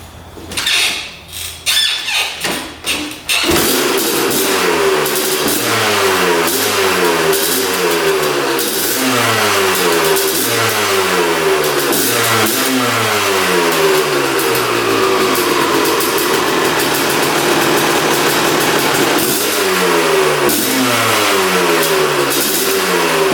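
A Honda dirt bike engine, just restored with its seat, tank and plastics refitted, settles from a few sputtering attempts into a steady loud running idle with rhythmic rises and dips in revs, close by and alone.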